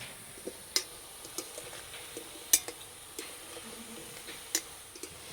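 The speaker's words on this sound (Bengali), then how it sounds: "আর এই যে ভাজা হচ্ছে" Ripe jackfruit fritters fry quietly in oil, a faint low sizzle broken by sharp little pops and light ticks of a utensil at irregular intervals, with no talk.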